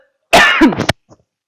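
One close, sharp cough bursts out with a throaty rasp, followed by a small short catch and then silence.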